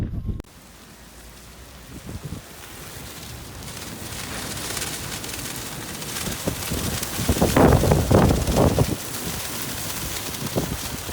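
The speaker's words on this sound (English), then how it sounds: "Sorry about the wind." Gusty wind buffets a handheld microphone outdoors on a city street in Brussels, a steady broadband rumble that swells into louder, harsher blasts around the middle and stays close and continuous throughout, with no talking.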